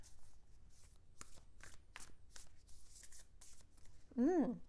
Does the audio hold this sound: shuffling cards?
yes